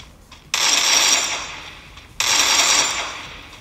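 Free Fire gunfire plays through a TECNO POVA 6 Pro 5G phone in two sharp, noisy bursts, each starting abruptly and fading, with a brief gap between them and no talk.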